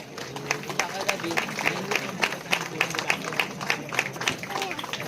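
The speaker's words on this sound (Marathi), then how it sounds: "जोरदार टाळ्या झाल्या पाहिजेत" An award and felicitation ceremony crowd claps in quick, rhythmic bursts for several seconds while a speaker keeps talking over it.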